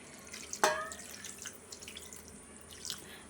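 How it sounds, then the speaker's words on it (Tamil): A little water is poured into a pan of capsicum butter chicken gravy, giving a quiet splash followed by faint scattered drips and light sizzling, with no voices. "கொஞ்சமாக தண்ணி ஊற்றிக்கலாம்"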